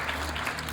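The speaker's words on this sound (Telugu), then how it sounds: "చప్పట్లు కొట్టి దేవుని నామాన్ని కనపరుచుకుందాం." Brief applause from a church congregation at a Lent service, a steady even patter of clapping throughout with no voices over it.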